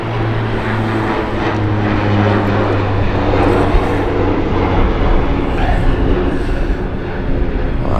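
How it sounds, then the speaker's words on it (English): A KLM Embraer passenger jet arriving at London City Airport, its engines a loud continuous rumbling roar with a steady low tonal drone, heard close by throughout. "We've got a KLM Embraer."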